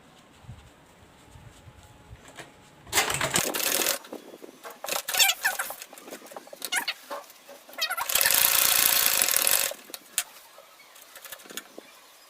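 Sewing machine with a zipper foot stitching the handle of an insulated lunch bag, two loud whirring bursts of running stitches separated by quieter handling and fabric rustle.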